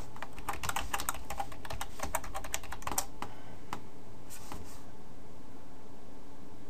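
Someone types on a computer keyboard in quick close bursts of clicky keystrokes, which thin out into a few separate taps and then stop.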